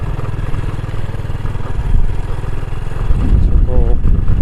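An ordinary motorcycle riding a slippery, rain-wet road through thick fog at Dieng: a steady, throbbing engine putter at close range, rising in loudness toward the end, with a voice talking over it at times.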